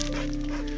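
A hound dog on an outdoor agate-hunting walk lets out a short, continuous whine or low howl, close and moderately loud, lasting under a second.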